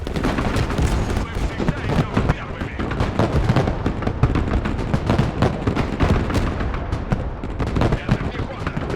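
Dense, continuous battle noise from the Broken Arrow strategy game: rapid overlapping gunshots and explosive bursts crackle steadily for nine seconds, loud and busy throughout with no clear pauses.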